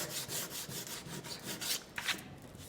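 Sandpaper rubbing across a waxed, painted surface in quick, repeated back-and-forth strokes, a soft, steady rasp that stays fairly quiet and close with no talking.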